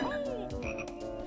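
Frog croaking in the Banjo-Kazooie video game, a quick series of warbly, bubbly croaks, near and clear with no talking.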